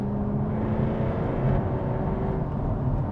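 A Jaguar F-Type's engine holds a steady, heavy low roar near 3,500 RPM, loud and close throughout, with no distinct crackle bursts standing out.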